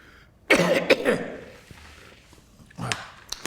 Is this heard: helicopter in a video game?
no